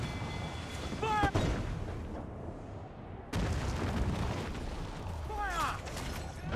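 Ship cannons fire in broadside volleys during a naval battle in Assassin's Creed IV: Black Flag, heavy booming blasts with crackling debris and whistling rounds, a second volley following a few seconds after the first, set against dense battle noise.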